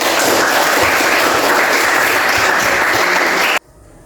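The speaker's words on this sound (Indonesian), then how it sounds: "Mari kita beri aplaus" A classroom of students breaks into loud, sustained applause, dense and steady clapping that fills the room before stopping abruptly.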